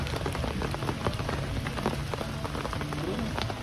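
Steady rain patters on surfaces at a surf camp in Kaliraya, an even hiss of drops with scattered sharper taps throughout, fairly soft and continuous with no voices.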